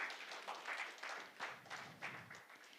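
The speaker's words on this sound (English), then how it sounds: "Can we have a round of applause for him" Faint, distant applause from a conference audience at a real estate conclave greets a housing company president, a soft wash of scattered clapping that swells and dips briefly.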